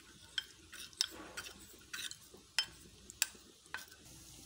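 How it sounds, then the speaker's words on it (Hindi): A spoon stirs a cornflour and water mixture in a bowl for homemade choco bar ice cream, producing quiet scraping strokes and several sharp clinks at irregular intervals. "और अच्छे से मिक्स कर लेते हैं।"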